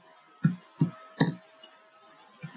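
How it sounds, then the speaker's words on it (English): Keys clatter on a computer keyboard while typing into the Firefox address bar, four distinct close clicks in an uneven rhythm with a short pause before the last one. "I'm going to go into the address bar and type"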